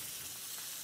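Hare frying in a pan over high heat, a steady close hiss and sizzle filling the short moment with no voices.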